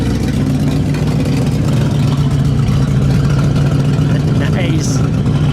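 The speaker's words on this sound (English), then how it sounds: "Well, listen to the exhaust." A 1964 Pontiac Bonneville Grand Marque IV convertible idles loudly with a deep, throbbing exhaust rumble, steady and close, with a brief higher whine near the end.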